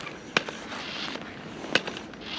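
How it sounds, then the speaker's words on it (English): A homemade air cannon fires twice during dead poplar tree removal, each a sharp, loud burst about 1.3 seconds apart over steady outdoor background noise. "So you're using your homemade air cannon."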